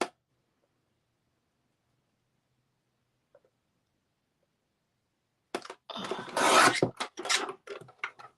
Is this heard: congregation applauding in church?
no